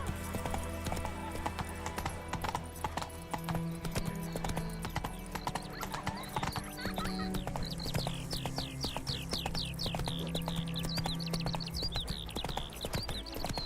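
Horse hooves clip-clop in a quick steady rhythm in Witcher 3: Wild Hunt, with a whinny rising near the end over faint background game sound.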